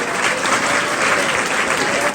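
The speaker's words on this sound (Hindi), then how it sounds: "जोरदार ताली बजाएंगे अपने लिए" An audience at a motivational memory talk bursts into loud, dense, sustained applause that holds steady for a couple of seconds.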